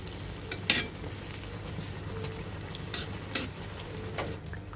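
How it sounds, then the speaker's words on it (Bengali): Battered eggplant slices fry in hot oil as beguni fritters, a low steady bubbling sizzle with a few sharp clinks and scrapes of a utensil against the pan, close by and with no voices. "এভাবে আমরা সব কয়টি বেগুনি ভেজে নিব"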